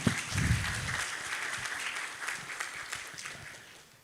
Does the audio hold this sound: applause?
yes